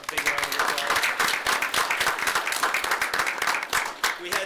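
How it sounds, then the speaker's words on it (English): Steady audience applause fills a school board of education meeting, dense continuous clapping from a crowd honoring a student wrestler with a 17-3 season record, holding at an even level throughout. "if we could give Jackson a big round of applause"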